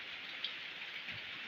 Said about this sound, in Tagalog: Grabe, daming ulan